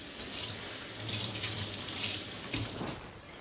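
A kitchen tap runs steadily into a sink while food is washed for an Italian seafood soup, a continuous close splashing hiss lasting a few seconds with no talk.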